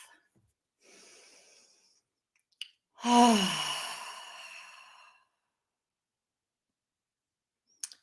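One slow, deep breath drawn in and released audibly over about two seconds during a calm relaxation exercise, preceded by a faint softer breath, in an otherwise quiet room.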